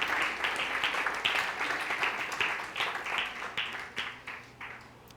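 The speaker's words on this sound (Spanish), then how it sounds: "¿Le podemos dar un aplauso a Dios, por favor?" Church audience applauding during a Sunday sermon, a broad crowd clapping that sounds moderately distant and gradually thins and fades toward the end, with no voices over it.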